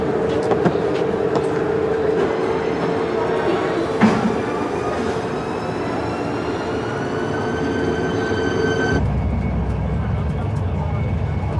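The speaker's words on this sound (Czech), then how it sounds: "Tak jak jde vlak teďka, Dane?" A train rumbles steadily with rising whine-like tones, continuous and fairly loud, while people talk over it; the noise drops abruptly near the end.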